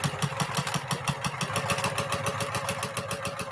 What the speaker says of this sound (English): and I begin to sew